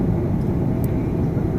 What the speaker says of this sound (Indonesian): pesawat mulai menurunkan ketinggiannya